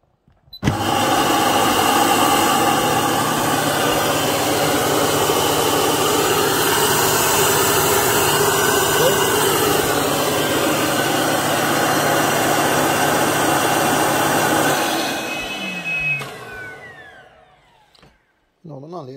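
An air pump for an M-Spa inflatable hot tub runs loud and close with a steady droning whir for about fourteen seconds, then winds down and cuts off, leaving near silence.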